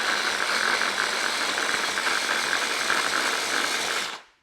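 Blender briefly chopping roasted cashews for a rocket pesto, a loud, steady whirring grind with a rattling edge that holds evenly for about four seconds before cutting off abruptly.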